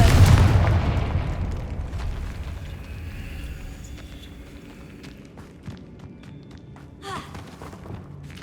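Confringo fire spell blast in Hogwarts Legacy gameplay: a heavy booming explosion opens loud, then decays into rumbling debris, scattered thuds and footsteps, with a small crackling burst near the end.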